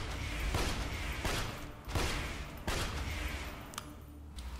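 Video game gunfire with a drunk status effect splitting each shot into six, heard as several dense, crackling bursts of shots with heavy thumps over a constant loud din of combat.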